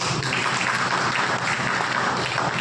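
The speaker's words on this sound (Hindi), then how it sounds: "एक बार जोरदार ताली बजा दीजिए मुझे" Crowd at an outdoor Valmiki community rally bursts into steady, dense applause, a continuous loud patter of many hands clapping at once for the full stretch with little else above it.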